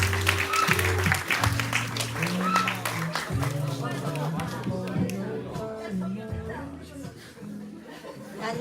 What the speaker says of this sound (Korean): 이 친구들이 나올 때 힘내서 잘할 수 있도록 격려의 박수 해주겠습니다